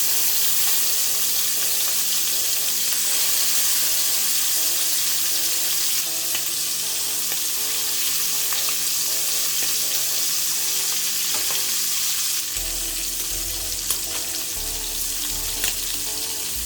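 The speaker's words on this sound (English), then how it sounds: "you just want to fry for like 4 minutes, like 2 minutes on each side" Steady, close sizzling of shrimp frying in a hot pan, continuous and bright, with an occasional stir or scrape near the end.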